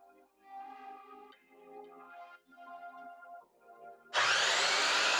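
A power saw on a DeWalt saw stand starts up abruptly near the end and rips loudly through wood for a workbench build, following a stretch of quieter, tonal background sound, with no voices.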